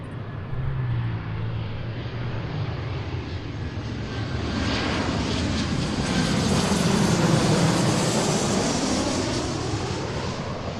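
A Delta passenger jet arriving at Seattle from Las Vegas roars steadily overhead, its engine noise swelling louder toward the middle and holding as a broad, continuous rumble with no talking.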